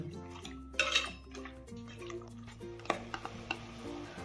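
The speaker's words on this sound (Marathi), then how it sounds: "पुन्हा मी तूप टाकते आणि पुन्हा ढवळत जाते." Mutton stirred with ghee in a pan, a spoon scraping and clinking against the metal in scattered knocks and clatters, close by with no voices.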